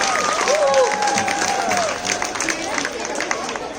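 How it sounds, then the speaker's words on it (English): An audience at a men's cricket tournament prize distribution applauds the finalists, with sustained crowd clapping, scattered cheers and a whistle-like call near the start, and voices murmuring beneath throughout. "I would like you to give a loud of applause to them"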